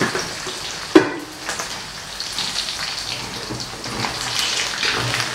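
Chicken skin fries in oil in a pan, giving a steady crackling sizzle with a sharp clatter near the start as it is stirred.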